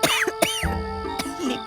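A woman coughs several times in short, rough bursts, close and fairly loud, with a squeaky edge between coughs.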